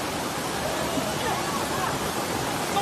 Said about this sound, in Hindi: पानी का डरावना शोर है